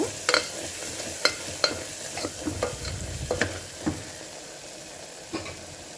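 Egg pulusu mixture with coriander and cumin powder is stirred in a pan, a spoon scraping in sharp irregular knocks over a soft steady sizzle, close and alone.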